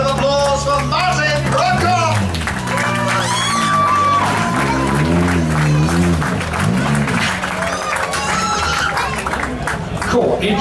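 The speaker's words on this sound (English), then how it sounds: "let's hear a big round of applause for Martin" Crowd applause and cheering ring out at the WRC Wales GB 2012 rally start ramp for Czech Ford National Team driver Martin, a broad, steady wash of clapping beneath a loud announcer voice.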